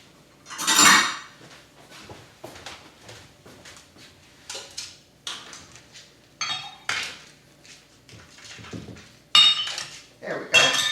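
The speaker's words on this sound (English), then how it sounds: "I'll just scoop a little bit out" Dry baking ingredient scooped out of a measuring cup with a metal utensil while making croissant dough, heard as scattered clinks and scrapes of metal on a bowl, with a loud rustle near the start and brief clatters later.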